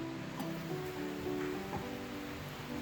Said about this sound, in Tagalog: So ang noodles ni bukal na pud siya pag-ayo.